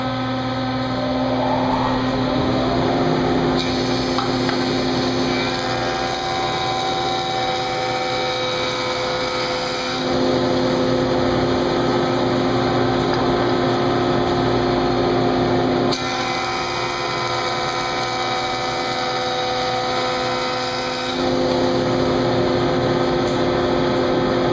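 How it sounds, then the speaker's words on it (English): Woodworking jointer squaring board edges for a pedestal extension table, a steady high-pitched motor whine with cutter hum that holds at constant loudness throughout, with subtle shifts as boards pass through and no speech. "I'm going to put the joiner, put it up against the fence, and square that up."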